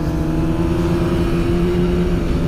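A Honda CBR1000RR FireBlade, the SC57 model, hums along at a steady engine note while being ridden, loud and close with constant wind rush and no speech.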